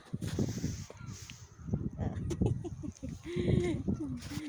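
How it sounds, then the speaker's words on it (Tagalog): Chickens cluck and call intermittently at a distance in Newfoundland, mixed with other farm animal sounds and people talking over them. "Dinig niyo yung mga manok guys."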